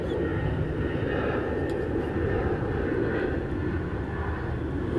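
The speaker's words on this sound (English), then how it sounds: "I'm going to let this plane go by." An airplane passes overhead outdoors, a loud, steady engine roar that holds for the full five seconds with no clear rise or fall and no speech over it.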